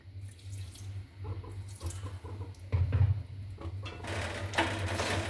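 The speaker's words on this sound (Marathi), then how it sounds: "त्यात थोडंसं पाणी टाकायचं आहे." A small splash of water poured into jaggery melting in a pan for dink ladoos, with a steady low hum from the kitchen running underneath and a brief watery rush near the end.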